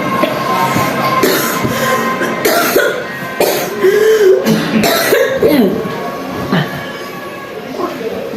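Repeated coughing and throat clearing from a person in a comic rural Bangla skit, close and fairly loud, mixed with talk and a steady rumbling background noise.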